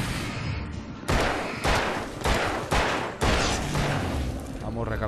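Gunfire in the video game Alan Wake: four or five loud, sharp shots spaced about a second apart, each ending in a short echoing tail.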